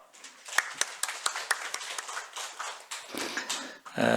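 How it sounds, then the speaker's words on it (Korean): A church congregation claps in encouragement during a Sunday morning Palm Sunday service, a steady spread of handclaps with sharper peaks, fairly close and moderately loud, ending in a brief burst of other sound. "우리 격려 박수하겠습니다"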